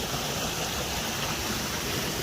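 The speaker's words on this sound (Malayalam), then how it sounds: "നമ്മുടെ ഒരു ചെറിയൊരു അരുവിയുണ്ട് ഗൈസ്" A small stream flows through forest near Amboori in Trivandrum, a dense, unbroken rushing wash of water that fills the whole scene at a steady level with no voices.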